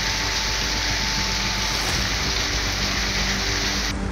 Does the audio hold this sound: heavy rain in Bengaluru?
yes